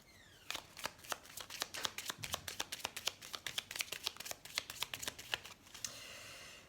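Tarot cards shuffled by hand give a fast run of crisp riffling clicks and snaps, close and distinct, ending in a softer sliding rustle as a card is drawn, with no talking.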